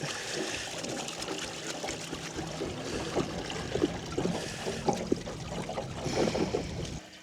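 Dirty, sediment-laden water drains from an opened shutoff valve, a continuous close trickle and gurgle with irregular splashy bursts that grow a little louder toward the end.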